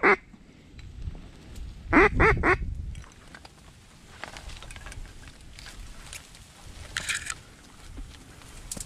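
A duck quacks loudly in a short burst of several calls close by, the last call trailing off. Faint rustling and wind carry through the rest, with occasional faint distant calls.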